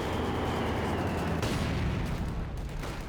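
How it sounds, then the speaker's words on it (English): Mortar fire from a Company of Heroes 2 battle booms and rumbles as a dense, continuous roar of distant explosions and battlefield noise, with no clear single blasts standing out. "Mortar shots fly."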